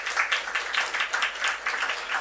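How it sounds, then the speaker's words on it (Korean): Brief, moderate applause from a Korean church congregation welcoming a visiting pastor and his wife, clapping in uneven bursts throughout. "두 분 다 박수로 한번 환영하겠습니다"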